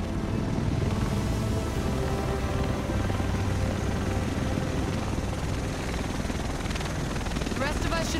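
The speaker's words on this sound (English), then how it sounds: "The rest of us should be in this chopper." A helicopter arrives in the video game The Division, a loud, continuous rotor thrum and engine roar that holds steady throughout with faint background game sounds.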